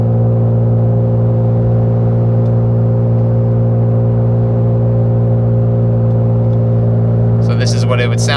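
A Toyota Tacoma pickup with a Carven exhaust and Nitto Ridge Grappler tires cruises at about 65 mph and 2,200 RPM, giving a steady, loud, droning cabin hum that holds constant before a brief sound near the end.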